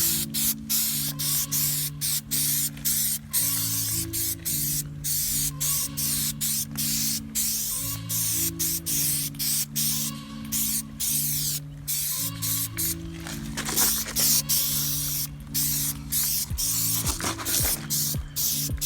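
Repeated bursts of aerosol tire shine spraying onto a Ford Taurus's tires, hissing in short pulses with brief pauses between, close up over a low droning hum.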